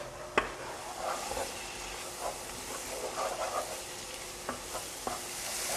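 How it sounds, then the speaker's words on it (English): Minced garlic sautéing in a pan while being stirred, a steady soft sizzle with a few sharp utensil clicks against the pan, close up and without talk. "And we're going to stir this around and let this saute for 3 minutes."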